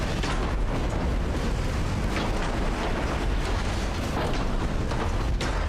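Torpedo hits exploding against enemy warships in the naval battle game Ultimate Admiral: Dreadnoughts, US campaign of 1902: a dense, continuous roar of booming blasts and rumble, loud and sustained throughout with no talk.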